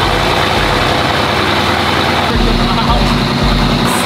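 A Mercedes-AMG car engine during a cold start in California, a loud, steady low rumble that holds throughout with slight shifts in pitch, close by and mostly alone.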